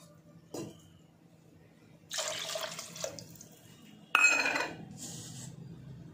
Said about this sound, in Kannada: ಈಗ ಒಂದು 4 ಬಟ್ಲಷ್ಟು ನೀರು ಹಾಕ್ತಾಯಿದ್ದೀನಿ.